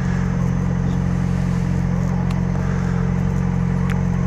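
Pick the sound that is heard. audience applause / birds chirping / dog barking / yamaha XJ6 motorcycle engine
yamaha XJ6 motorcycle engine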